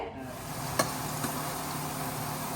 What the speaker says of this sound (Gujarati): અને મસ્ત અત્યારે વઘાર થાય છે બરાબર